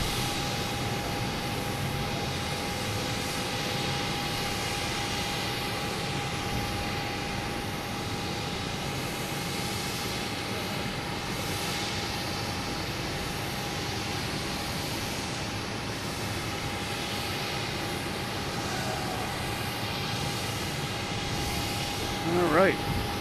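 An airliner takes off from a runway at Boston Logan Airport, producing a continuous broad, rumbling engine roar that holds steady at a moderate distance for over twenty seconds.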